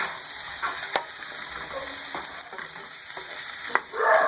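Boiled eggs, broken by hand or with a spoon, mixed into vegetables frying in a pan for an egg vegetable paratha: a gentle sizzle under repeated spoon scrapes and a few sharp clinks against the pan.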